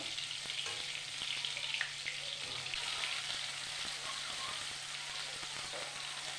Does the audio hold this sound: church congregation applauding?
no